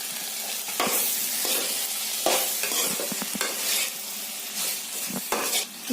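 Spoon stirring tomatoes into a cauliflower curry in a pan, steady scraping and clinking strokes over a soft continuous sizzle, close and fairly loud.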